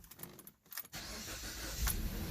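A 2015 Jeep Patriot engine with a cylinder 4 misfire is started, going from near quiet to a steady, close rumble after a brief crank, with a small metallic jingle in the quiet before.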